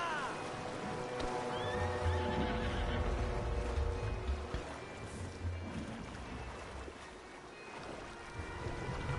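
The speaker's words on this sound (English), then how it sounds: "The horses are confused. We need to round them up." Horses neighing and whinnying in Red Dead Redemption 2, mixed with game music and ambient sound, with a couple of short, distinct whinnies rising above a steady, fairly loud background.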